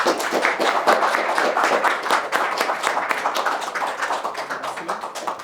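An audience gives a brisk, dense round of applause for two documentary filmmakers at a cinema screening, steady and close for several seconds before tapering slightly at the end.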